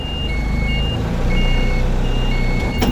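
Reversing beeps from an Isuzu 4HL1 truck shifted into reverse, a steady series of evenly spaced electronic tones over a loud idling diesel engine.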